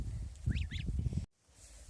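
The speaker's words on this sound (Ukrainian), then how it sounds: "Отакі гуси." Farmyard geese honk twice in quick succession, close by, over a low rumbling background, then the sound cuts off abruptly.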